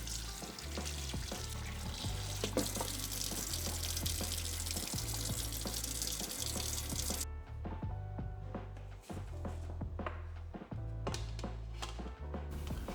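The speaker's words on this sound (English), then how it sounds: "rinse the pork ribs under running water" Running tap water splashes continuously while blanched pork ribs are rinsed and moved around under the stream, with occasional clinks of a bowl.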